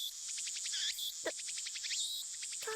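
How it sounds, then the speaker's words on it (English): Cicadas chirp in the Steins;Gate video game, a dense, steady insect drone with rapid pulsing buzzes that fill the whole stretch at moderate level, with no voices. "The only sound is the chirping of cicadas."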